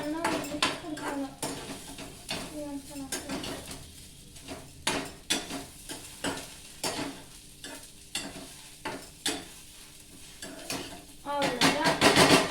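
Stirring and mixing mandhika poori upma in a pan, with repeated sharp scraping and clinking of a spoon against metal over a soft sizzle, near and busy, bursts coming every second or so.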